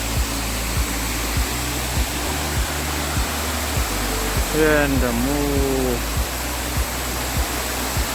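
Steady broadband rush of the Anara waterfall fills the scene, loud and continuous, with a regular low thumping beneath and a brief spoken word partway through.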